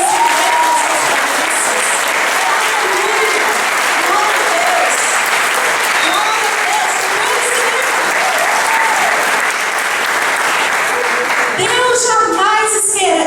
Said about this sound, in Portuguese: Então dê um aplauso ao Senhor por Deus.